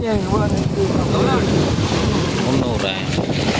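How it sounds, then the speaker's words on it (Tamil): A fishing boat comes in to the shore during a rainy-season fish landing, with steady wind buffeting the microphone and surf washing in. Voices can be heard faintly over the continuous roar. "அடுத்த போட் வந்துருக்கு பாருங்க."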